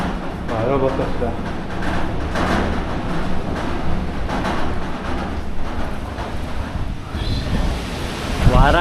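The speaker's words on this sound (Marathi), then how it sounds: "वारा डेंजर आहे." Strong monsoon wind buffets the top of Rajgad Fort during a trek, roaring and rumbling loud and close against the microphone throughout, with people speaking over it.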